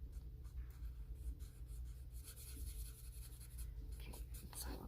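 Colored pencils scratch and scrape across paper as a festive coloring page is touched up, a soft continuous scratching with short strokes, faint and close, with a low hum underneath and no voices.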